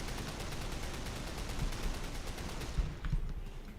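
Rapid bursts of gunfire from a Call of Duty Modern Warfare 3 match using the Men of War mod, a dense, steady crackle of distant shots that thins out near the end.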